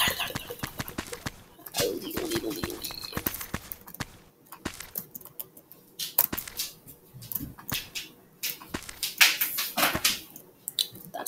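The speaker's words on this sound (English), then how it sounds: "Any weird noises that you hear, it's my dog." A dog indoors makes scattered, irregular noises, short bursts and scuffling sounds with brief pauses between them, heard close by in a room.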